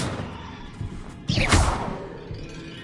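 A Confringo fire spell cast in the Hogwarts video game bursts out as one sudden whooshing blast, with a short crackling tail that fades over a faint background.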